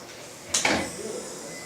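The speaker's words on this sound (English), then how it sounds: "so maybe we can close the door." A classroom door swings shut during a lecture, giving one brief bumping thud with a short scrape or rattle, moderately close in a quiet room.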